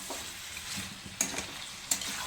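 Chicken being kosha-fried in a pan with spices, restaurant style at home: a soft continuous sizzle with scraping stirs and two sharper spoon strikes against the pan.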